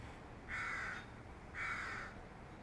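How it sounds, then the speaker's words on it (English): Two separate caws from crows in the distance, each about half a second long and spaced a second apart, sound faint over a low, steady background hiss. "Did you hear the crows in the background,"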